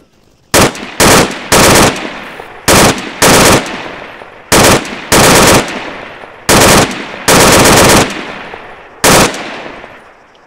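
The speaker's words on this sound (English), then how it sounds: "Oh, return fire. You're firing at our sniper." Bursts of automatic gunfire from the video game Arma 3 come loud and close, about ten sharp volleys of varying length separated by short gaps.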